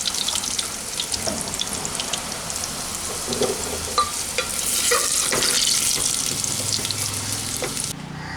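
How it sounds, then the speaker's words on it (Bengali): Whole spices such as bay leaf, dried chilli, cinnamon, cardamom and cloves sizzling in leftover hot oil for tempering, a close steady crackle with scattered pops and spoon clicks, with no talking. "তো এখন এই বাদবাকি তেলের মধ্যে ফোড়নটা দিয়ে দিচ্ছি।"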